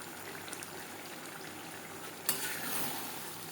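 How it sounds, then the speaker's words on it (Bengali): Garam masala powder and chopped coriander are stirred into the oil of a bhetki fish curry in a pan, giving a faint steady sizzle, then a sudden scrape and louder frying hiss near the end, with no talk. "ধনেপাতা ও গরম মশলা পাউডার মাছের তেলের সাথে বেশ ভালো করে মিক্সড করে দেবো।"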